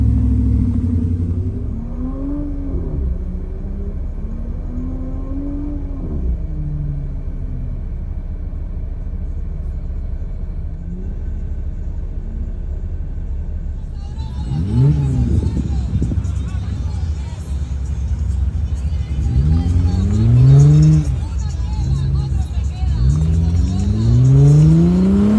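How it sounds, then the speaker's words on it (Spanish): A Jeep LJ off-roader revs hard climbing out of a rut, its engine rumbling low at first and then rising in repeated loud, straining revving surges. "Tuve que dar una vuelta, apretar duro el CAT para sacarlo de este bache."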